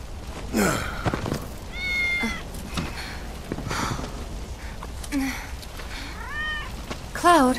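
Several short cat meows and mews from Final Fantasy VII Remake come and go, interspersed with breathy gasps and soft sighs, with one louder meow near the end.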